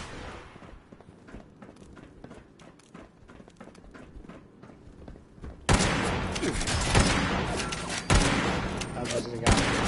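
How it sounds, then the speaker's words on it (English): Rapid laser weapon fire in Fallout 76, sharp repeated shots that intensify in the second half over game ambience, with occasional talk. "laser weapon"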